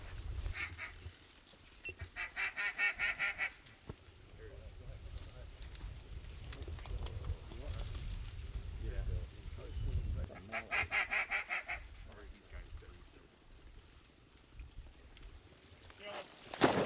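Ducks calling in a flooded corn field, with bursts of loud, rapid honking quacks near the start and again midway, over constant murmuring voices and wind.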